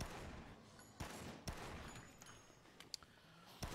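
Gunfire in the video game Dead Rising sounds as a few muffled shots over a dense, noisy game background, fairly faint and distant, with no talk.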